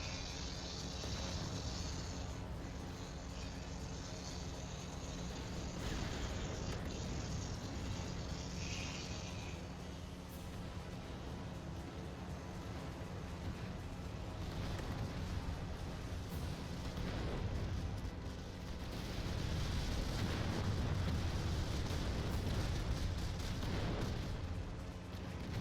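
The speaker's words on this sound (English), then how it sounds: "Some more artillery." Artillery fire in a VR strategy video game, a continuous dense barrage of booms and bursts rumbling without a break, fairly quiet and distant throughout.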